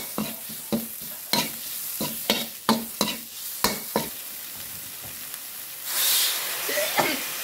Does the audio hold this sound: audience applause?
no